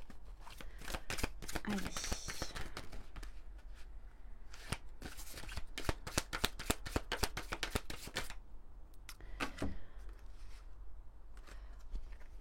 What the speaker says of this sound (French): On va prendre peut-être une ou deux cartes de l'oracle Divin Ange.